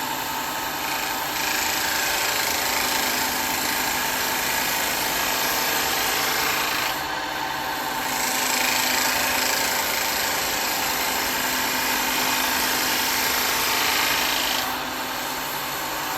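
A wood lathe spins a cowboy hat blank while a tool held vertical takes fine cuts and peels off thin shavings, a loud steady motor whine with a hissing cutting layer that shifts slightly at intervals.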